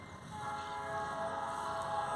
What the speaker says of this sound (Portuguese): O barulho do trem lá no cruzamento